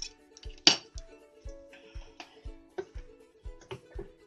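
A tablespoon clinks against a bowl while mayonnaise is added for old-fashioned coleslaw, a steady series of about eight light taps roughly every half second, close and fairly quiet with no talking.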